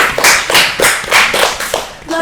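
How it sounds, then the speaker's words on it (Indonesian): Group applause for a school Red Cross youth team at SMKN 2 Depok, with a burst of quick, fairly loud hand claps over about two seconds, mixed with voices. "Tepuk tangan dulu dong teman-teman."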